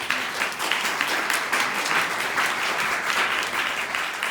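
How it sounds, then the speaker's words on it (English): Audience applause welcoming a speaker to the stage, a dense, steady wash of many hands clapping at full strength, sustained without pause and with no voices over it. "I want to ask you to give him a warm round of applause"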